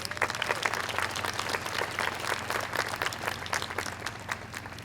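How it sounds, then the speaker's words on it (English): A crowd at an outdoor community walk applauds steadily, with sharp individual claps standing out above the continuous clapping. "Give them all a round of applause."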